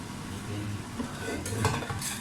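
Close, continuous stirring of beef soup ingredients in an oiled pan with onion and garlic, a gentle sizzle under it and metal scrapes and clinks of a utensil against the pan, no voices.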